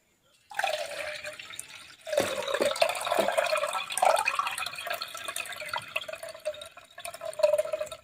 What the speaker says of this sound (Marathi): आता हे पाणी परत काढून घ्यायचं आहे